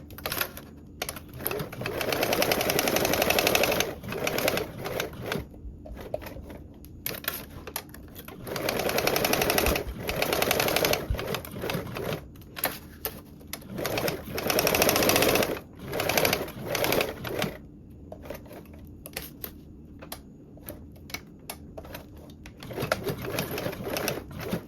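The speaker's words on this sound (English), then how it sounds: "And then I'm going to sew around with a 3/8 seam allowance." Sewing machine stitching a 3/8-inch seam around a Cascade Duffle bag, running in loud bursts of several seconds separated by short pauses, with no talking.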